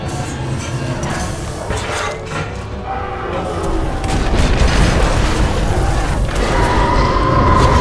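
Explosions and heavy mechanical rumbling in Titanfall 2 gameplay, booming blasts and clanking that swell louder and denser over the second half, with no talking.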